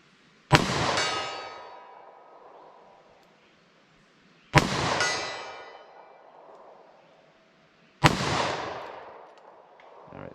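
.38 Special +P lead hollow-point rounds fired from a short-barrel revolver outdoors: three loud, sharp gunshots spaced about four seconds apart, each with a ringing decay, no talking.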